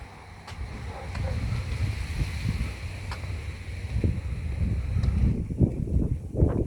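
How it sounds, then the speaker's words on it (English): Strong, gusty wind buffets a microphone outdoors beside a sidewalk, a steady low rumble swelling and surging louder toward the end with sharp bursts of gust noise. "Pretty windy, man. I'm trying to block the wind,"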